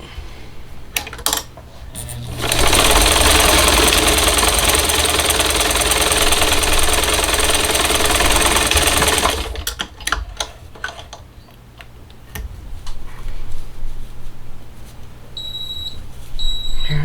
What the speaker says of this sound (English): Let me stitch this on real quick.